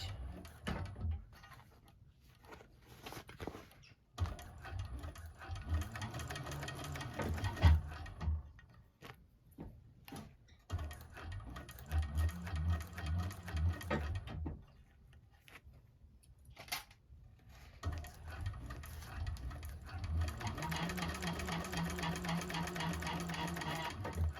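A 1341 cylinder arm sewing machine stitches a bag in several bursts of running motor hum and rapid needle clatter, with short quiet pauses between runs.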